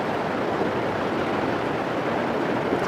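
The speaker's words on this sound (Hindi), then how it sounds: "कल कल छल छल की आवाज़ आती हुई, सामने ग्लेशियर, और ग्लेशियर से शुद्ध पानी आ रहा है" Glacier-fed river water rushes steadily near Sonamarg in Kashmir, a dense, continuous roar of flowing meltwater that stays loud and unbroken throughout, with no voices.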